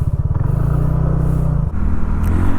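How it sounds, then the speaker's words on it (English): A TVS Ntorq 150 scooter rides along a road, its engine giving a steady low drone with a brief dip and then a renewed pull, loud and close with no talk over it. "Now let's go for a short ride on the all new TVS Ntorq"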